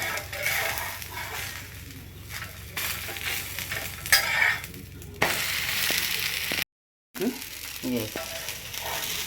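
Masala dosa roasting on a hot pan at breakfast, a steady close sizzle and frying hiss with scraping and stirring clinks, broken by a brief silent gap.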